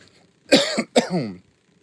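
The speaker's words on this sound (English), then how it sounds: "Good little cough there." Two quick, rough coughs close to the mic, back to back, followed by quiet.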